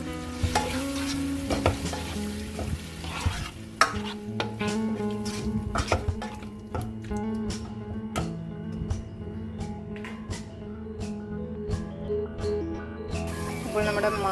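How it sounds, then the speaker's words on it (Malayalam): Cut mango is sautéed in ghee for a fruit payasam, a steady close sizzle with irregular stirring scrapes and spoon taps against the pan, with some background tones. "അതേ നെയ്യിലേക്ക് നമുക്ക് മാങ്ങ കട്ട് ചെയ്ത് വെച്ചിരിക്കുന്നത് വഴറ്റിയെടുക്കാം"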